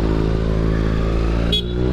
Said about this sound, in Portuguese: Tô a bordo de uma XRE 300